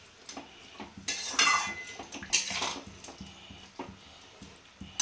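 A bowl being rinsed clatters against pots in a kitchen, with a few sharp clinks and knocks that come close together and then thin out to light taps.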